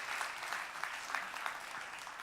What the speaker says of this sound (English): Round of applause to the band.